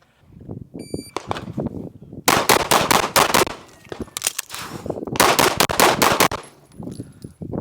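Rapid strings of loud, close pistol shots from a PMM Flushcomp Sig P320 fire in two main bursts at a shooting stage, with brief pauses and a few scattered single shots around them.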